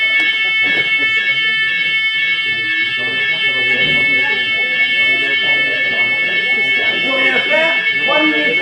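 A fire alarm rings steadily at high pitch through a church or meeting hall, its tones sustained for the whole stretch while a crowd murmurs and people talk underneath.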